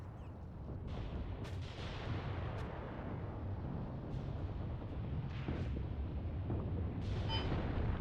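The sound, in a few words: heavy howitzer shell impacts in a war video game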